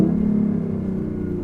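BMW i8 engine rumbles close and loud, holding a steady low drone that eases slightly over a brief moment with a shift-like step.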